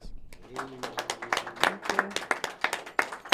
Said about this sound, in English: Please, wherever you are, a round of applause for Butcher, Chanel, and Cut Nice, please.